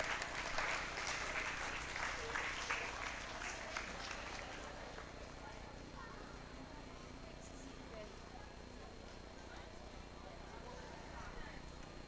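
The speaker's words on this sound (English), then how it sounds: "A huge round of applause for her." Applause for a speaker at an inauguration ceremony in a large crowd, loud clapping for the first four seconds that then fades into quieter room noise with faint murmuring.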